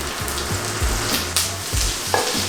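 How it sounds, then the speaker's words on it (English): Sliced onions fry in butter in a pan on a lowered burner, giving a loud, steady, close sizzle and crackle with a few stirring scrapes. "I have some sliced onions here that we're gonna add in."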